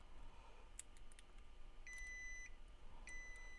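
A multimeter's continuity beeper, its speaker muffled with tape, gives short faint tones during laptop motherboard repair: a couple of brief chirps early, then two longer steady beeps over quiet background hiss.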